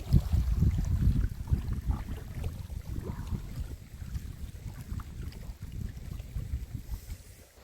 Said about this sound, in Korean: 물소리 차랑차랑 좋아요